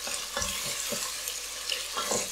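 Meat frying with hot paprika for Székely goulash is stirred in a pot, giving a soft, steady sizzle broken by several scraping stir strokes, close and moderately quiet.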